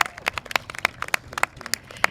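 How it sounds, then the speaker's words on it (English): Scattered, fairly sparse hand claps from a small crowd at an outdoor groundbreaking press event for a mental healthcare facility, sharp and uneven over about two seconds. "Let's give Joe Simidian a big round of applause."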